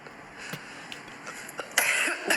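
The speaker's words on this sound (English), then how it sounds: "Stop coughing into the microphone." Several short, sharp coughs land close to a podcast microphone in a quiet room, with the last bursts louder and rougher than the first.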